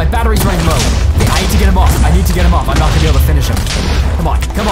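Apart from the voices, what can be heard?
explosions from a boss in the video game Minecraft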